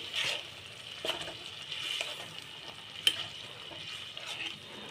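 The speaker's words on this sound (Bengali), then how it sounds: "আমি টমেটো বাটাটা দিয়ে দিচ্ছি।" Tomato paste stirred into frying masala in a pan: a soft, continuous sizzle with scraping stirs and a few light clicks, fairly quiet and close, without talk.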